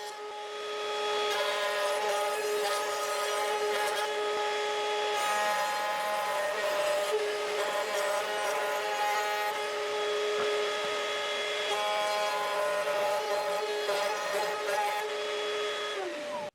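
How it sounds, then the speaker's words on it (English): A router cuts a shallow, wide recess into wood strips held in a woodworking clamp, giving a loud, steady high-pitched whine with a few small dips in tone. "Now, I have to route a recess in 2 wood strips"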